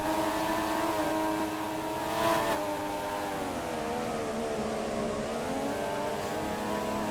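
Formula One cars race at the French Grand Prix, a sustained high engine whine with shifting pitch and a brief louder pass, heard at a distance.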